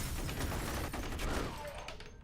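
Dense, continuous gunfire from a firefight in the video game F.E.A.R., loud and sustained throughout with layered shots and no clear gaps.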